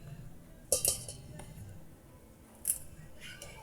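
A few sharp metallic clinks of pots and utensils ring out in a home kitchen during sinigang preparation, two brief clusters of bright clatter over low background hum.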